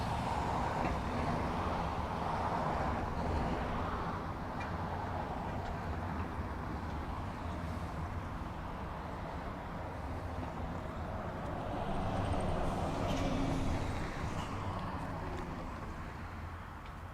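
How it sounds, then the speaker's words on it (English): A truck rolls past near the Dublin Airport runways, a steady broad rumble that holds throughout and swells slightly toward the end, with no voices. "perfectly timed truck again"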